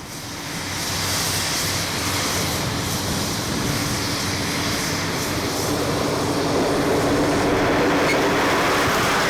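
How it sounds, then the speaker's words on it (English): A Melbourne Sprinter diesel railcar pulls away from Geelong at dusk, its loud, steady engine roar and rumble building quickly and holding close and strong with no voices. "As darkness falls on Geelong, the Melbourne Sprinter departs."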